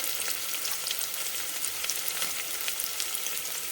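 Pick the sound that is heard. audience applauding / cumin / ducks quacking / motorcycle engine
cumin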